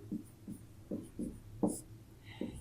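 Pen or pencil scratching on paper while writing out a polynomial factoring solution, a series of short soft strokes in uneven rhythm, close and quiet with no talking.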